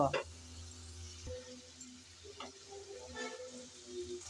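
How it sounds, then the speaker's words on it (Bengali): Tomato and sliced green chillies drop into a pan of spices being cooked down for a Bengali fish-oil recipe, giving a soft frying sizzle with a few stirring clinks, fairly quiet and steady throughout. "টমেটোটা দিয়ে দিলাম কাঁচামরিচ ফালি করে রেখেছি তাও দিয়ে দিলাম"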